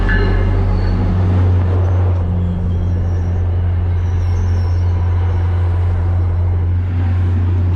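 An MBTA commuter rail train idles at Framingham station, a loud, steady low diesel rumble with a faint hiss of air and small squeals above it, close and continuous.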